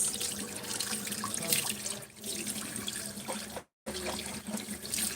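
Water runs from a tap into a sink while someone washes their face, a continuous splashing trickle with a short break near the end before the flow resumes.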